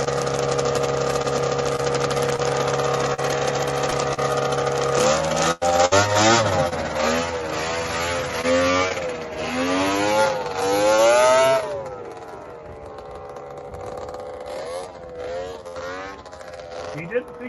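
An old vintage snowmobile engine runs steadily, its pitch rising and falling as it revs, with some voices and clatter in the background.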